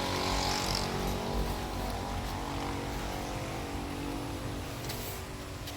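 A Ford EcoSport engine runs with a misfire after an overhaul left its timing off, giving a steady, loud, rough mechanical drone close by for the whole stretch with no talking.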